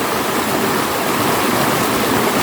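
A waterfall close to a cave tunnel roars as a loud, constant, broadband rush of falling water that never breaks, with no talking over it.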